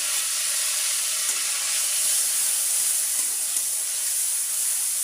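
Steady, even sizzle of shrimp frying in a pan with turmeric and salt, a continuous close hiss with no talking.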